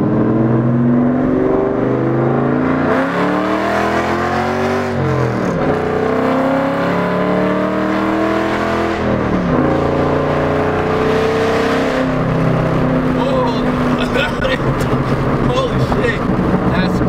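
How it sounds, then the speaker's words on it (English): A Ford Mustang with a lightweight flywheel makes a first gear pull, its loud engine climbing sharply in revs, dropping, and climbing again with tire-spinning roar before settling near the end. "I'm gonna try to do a small first gear pull for y'all."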